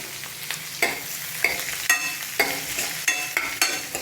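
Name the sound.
chopped onion frying in a pan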